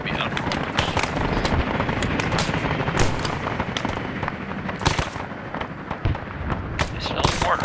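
Incoming mortar fire in a military video game, a steady barrage of crackling blasts and sharp impacts throughout, with a voice talking over the noise.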